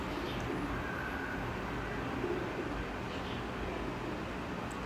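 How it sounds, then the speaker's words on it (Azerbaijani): Soft pigeon cooing drifts through a steady hiss of background noise, faint and low, with no talking. "Göyərçinlərin səsi bir yandan, şeyin səsi bir yandan"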